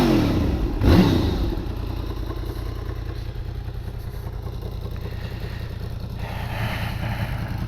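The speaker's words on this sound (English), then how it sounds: "I'll do one more rev for you guys." A 2002 Honda VFR800 motorcycle engine is revved once sharply near the start, then settles back into a steady, close idle with a rough mechanical clatter.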